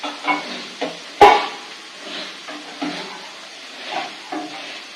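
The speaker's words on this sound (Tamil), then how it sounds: "தக்காளி நல்லா வதங்கி வரணும் வதங்கணும்" Soft frying sizzle of tomatoes sautéing in oil runs steadily, broken by occasional stirring scrapes and one sharp clink of a utensil against the pan.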